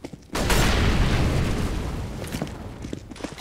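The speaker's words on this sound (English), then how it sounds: "Flashbang!" A flashbang grenade detonates in the shooter game CS:GO with a sudden loud boom that lingers as a broad, roaring burst for several seconds, with a few faint pops trailing near the end.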